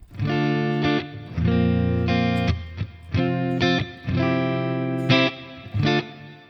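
Heavily driven electric guitar through a Mesa amp emulation pedal strums thick chords and short stabs, loud and near, with brief gaps between phrases.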